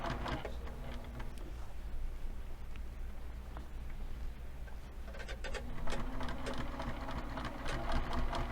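A sewing machine stitches along a fabric fold, a steady low mechanical hum with rapid, busy needle clatter that grows louder and denser toward the end, heard close and without speech.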